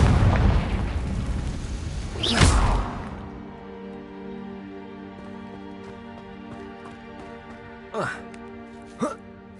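A Confringo blasting spell in Hogwarts Legacy goes off as one loud explosive burst. A sustained roar leads into it and it fades into a quieter tonal hum, with two smaller sharp bursts later on.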